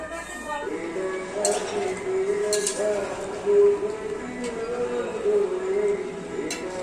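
A spatula scraping and stirring potatoes in a cooking pot, with soft metallic scrapes and clinks running steadily under a woman's speech.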